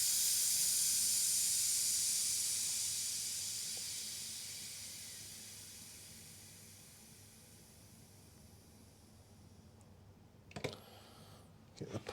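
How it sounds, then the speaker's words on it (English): Pressurised brake fluid hisses out of the brake line of a 2005 Skoda Fabia 1.2 petrol during bleeding. The hiss starts strong and close, then fades over several seconds, followed by a few sharp clicks and handling noises. "The pressure's gone down where we've been bleeding, so we'll let the rest of that pressure out."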